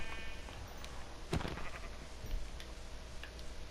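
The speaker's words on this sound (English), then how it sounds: "So we have 2 white sheep." A Minecraft sheep gives one short, nasal bleat about midway through, moderately close over a quiet, steady game background with faint ticking; no one speaks.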